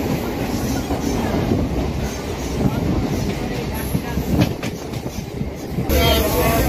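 Local train running between Bardhaman and Sealdah, a steady broadband rumble with clattering wheels throughout, loud and close, with brief voices in the background.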